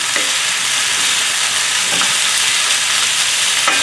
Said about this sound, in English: And now we're just gonna keep toss it.